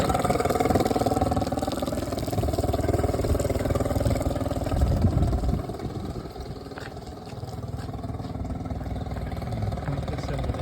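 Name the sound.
40 HP Mercury outboard engine turned off and restarted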